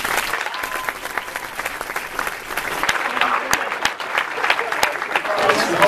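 An audience at a senior all-night party hypnotist show applauds steadily for about six seconds, dense clapping with a few sharper claps and some voices mixed in.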